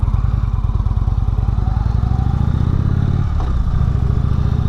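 A 2016 Indian Springfield motorcycle engine thrums steadily and loudly while riding, with a dense low pulsing throb that dips briefly near the end as the throttle eases.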